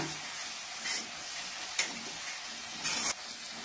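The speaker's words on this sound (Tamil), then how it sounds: "இப்போ இது எல்லாத்தையும் நல்லா வதக்கி விட்டுறலாம்" Spices and onions sauté and sizzle in a pan while making kothu parotta, a steady hiss with a few brief scraping stirs, heard alone at a moderate level.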